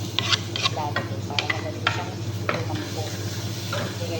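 Hard tomatoes being added to a pot of ginataang manok and stirred, with repeated scraping and clacking strokes over a low background hum and a soft sizzle, while a person talks.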